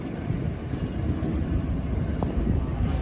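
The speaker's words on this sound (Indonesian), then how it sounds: "Kereta Ketelnya sepertinya berhenti ya di stasiun Sidoarjo atau melintas langsung." A steam locomotive train rumbles past close by, its wheels squealing in high, intermittent whines over a steady low roll.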